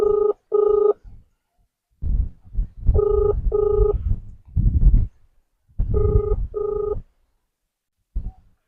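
An outgoing phone call rings back in paired electronic tone bursts, repeated three times with short gaps, loud and close, while low background sounds fill the pauses between them.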